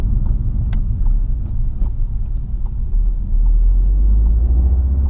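A VW Golf R drives steadily on wet roads, with a deep, continuous engine and road rumble heard from inside, growing slightly heavier toward the end.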